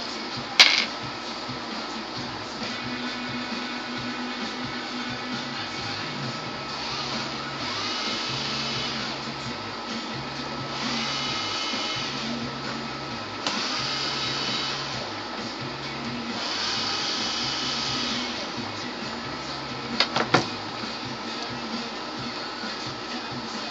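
A drill with a smaller bit whirs steadily at close range during a Toshiba Satellite laptop keyboard installation, its pitch wavering in slow surges, with a few faint clicks and knocks.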